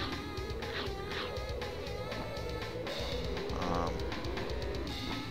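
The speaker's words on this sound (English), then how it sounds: "It's like a flightless bird. It takes so long to fly." Bird cooing in the video game Donkey Kong 64, a soft dove-like call repeating over a steady droning game soundtrack, moderately loud and continuous for several seconds.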